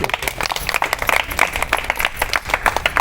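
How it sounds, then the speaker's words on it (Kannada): A burst of clapping from a group at a children's awareness camp, steady and fairly loud, with a few faint voices mixed in. "ಜೋರಾದ ಚಪ್ಪಾಳೆ ಬರಬೇಕು."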